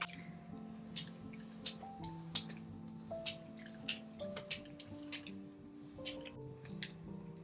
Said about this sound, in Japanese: はい、ということでスプレーをしていきます。